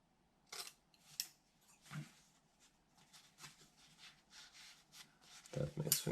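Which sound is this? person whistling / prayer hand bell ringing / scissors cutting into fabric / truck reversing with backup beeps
scissors cutting into fabric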